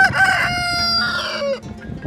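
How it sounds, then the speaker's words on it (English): A rooster crows once, loud and close, in a single drawn-out cock-a-doodle-doo lasting about two seconds among farm chickens. "for about 5 minutes, Devin, here, he's just been calling out for help."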